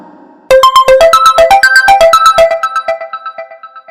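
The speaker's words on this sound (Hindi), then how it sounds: "मोबाइल पर किसी अनजान नंबर से कॉल आ जाता है" A mobile phone rings with an incoming call in an animated Hindi horror story, a loud, bright melodic ringtone of rapid repeating synth notes that starts abruptly and rings on steadily.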